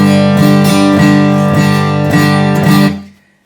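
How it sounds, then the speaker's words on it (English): An acoustic guitar strummed hard with a tightly gripped pick gives loud, harsh, abrasive chords in about five even strokes, then rings out and stops. "The harder you grip this pick, the more abrasive it sounds across the strings."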